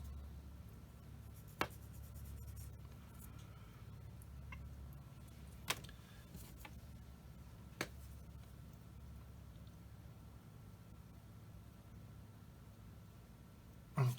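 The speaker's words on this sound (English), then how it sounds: "using this ginormous sander, sand the burr off that's left from cutting that part off" Faint, scratchy hand sanding as a large sander takes the leftover burr off a cut plastic part of a 1/35 scale Tamiya truck model, with a few sharp clicks over a low background hum.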